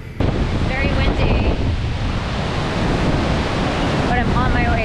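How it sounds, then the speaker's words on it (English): Strong wind at a Boracay beach resort during typhoon weather roars and buffets the microphone continuously, with a brief voice or call heard faintly through it. "It's so windy."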